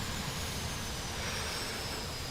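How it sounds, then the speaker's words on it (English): Airbus A340 jet engines in Flight Simulator X spool down, a steady broadband roar with a high whine that holds evenly, loud and close, with no talk. "let's shut down the engines"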